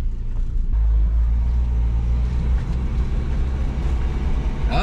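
Steady, loud engine drone and road rumble from a 1977 Datsun 710 being driven after sitting abandoned in a salvage yard, continuous and close with no break.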